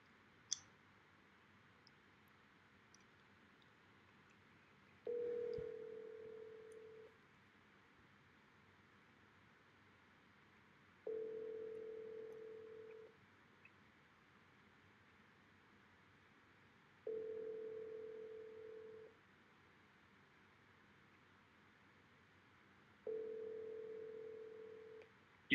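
An outgoing phone call rings over a faint line hiss, repeating four evenly spaced burbling rings about every six seconds, with a click at the start before it goes to voicemail.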